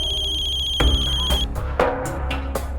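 A telephone rings with a high electronic tone that breaks into sharp repeated bursts over a low room hum, loud and close with no voices.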